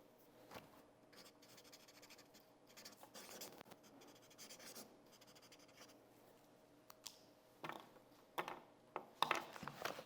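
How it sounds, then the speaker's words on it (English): Quiet pen strokes scratching across paper, with soft page rustling and a few sharper taps and scrapes near the end. "I'm going to sign these with different pens."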